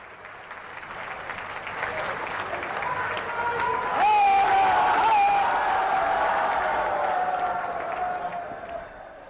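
An audience applauding Prime Minister Narendra Modi at a public event in Varanasi, a dense, sustained wash of clapping that swells and holds, with someone speaking over a loudspeaker above it.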